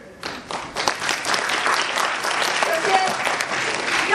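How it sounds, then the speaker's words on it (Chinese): Loud, dense audience applause at a Lunar New Year gala opening ceremony, building quickly and holding steady, with a voice briefly audible at the start. "让我们以热烈的掌声感谢刚才的两个开场节目。"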